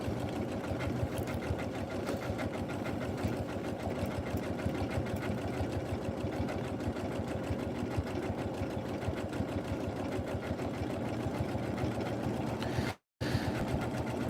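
Janome M17 sewing machine stitching in a fast, steady mechanical rhythm, running continuously up close with one brief pause near the end.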